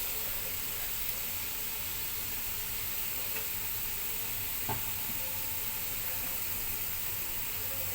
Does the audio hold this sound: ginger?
yes